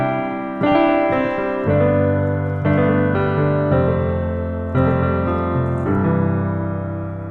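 Piano chords struck one after another in a bouncy, country-flavored pattern, clear and close, with no talking.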